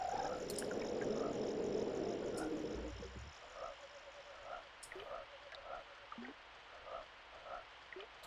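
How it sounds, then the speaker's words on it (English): Frogs croaking in the Secret of Evermore SNES game, a steady series of short, evenly spaced croaks after a burst of louder noise at the start, moderately quiet and alone. "I like the sound of the frogs here."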